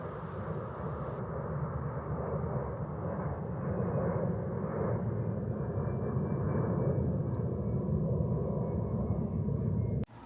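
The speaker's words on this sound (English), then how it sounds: "listen to Cargolux planes flying above us" A large Cargolux cargo plane drones overhead in Luxembourg, a steady low rumble that swells slightly and holds for several seconds before cutting off.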